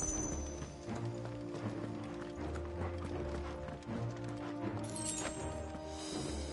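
A horse gallops in Final Fantasy XVI, with rhythmic hoofbeats running close and steady across the whole stretch, over game music with a faint whinny-like cry near the end.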